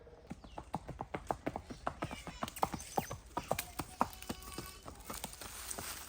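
A young mare in training clip-clops with sharp, evenly spaced hoof strikes at close range, a clear trotting rhythm with a possible whinny mixed in and no talk.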